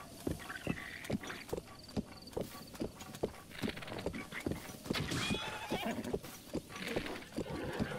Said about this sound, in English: Run, horsey! Come, run!